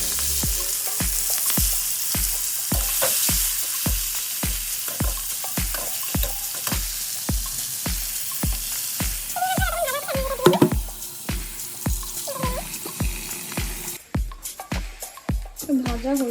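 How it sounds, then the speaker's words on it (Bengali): Salt-and-turmeric marinated shelled prawns fry in hot oil, giving a steady close sizzle with a rapid run of regular clicks and pops throughout; a voice speaks briefly over the frying near the middle, and sharper clatter comes toward the end. "চিংড়ি মাছ ছাড়িয়ে এখানে নুন হলুদ দিয়ে মাখিয়ে রেখেছি তো আগে এটাকে আমি ভেজে নেবো"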